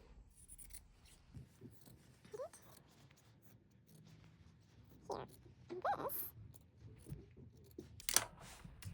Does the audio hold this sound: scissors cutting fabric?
yes